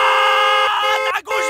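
A car horn honks loudly and nearby in a sustained blast, broken by a few short gaps as it is pressed again.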